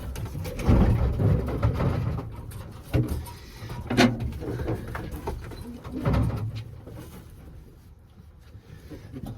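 Racing pigeons being basketed coo softly and repeatedly close by, their low murmuring calls mixed with rustling and shuffling movement.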